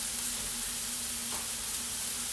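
Gnocchi frying in a pan and being stirred: a steady, close sizzle runs throughout, with one brief stir partway through.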